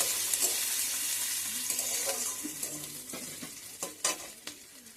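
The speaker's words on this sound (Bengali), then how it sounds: "তারপর আমি এক এক করে পেঁয়াজ কুচি রসুন কুচি আর লঙ্কা কুচি দিয়ে দিলাম তারপর একটু ভালো করে নাড়ালাম" Chopped onion, garlic and chilli fry in oil in a pan, giving a bright, continuous sizzle with a few louder stirring scrapes toward the end, close by, with no voices.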